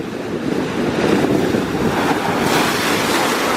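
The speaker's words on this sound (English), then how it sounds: "You have a bunch of splash from the wave action coming across" Waves surge and splash over a rocky shoreline at Currumbin, a loud, continuous broadband wash with gusting wind buffeting the microphone and no voices.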